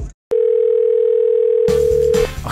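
A telephone line gives one long steady ringing tone after a short click, loud and alone, then breaks into rough noise and handling sounds near the end.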